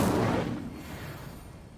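An Incendio fire spell in a magic combat video game bursts out as a loud, close whooshing blast that tails off into a fading, rumbling hiss over about two seconds, with no talking.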